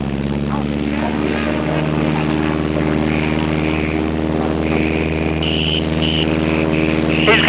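A propeller airplane drones steadily at an airdrome, its engine a loud, continuous buzzing hum throughout, with a rising whine near the end and voices talking faintly underneath.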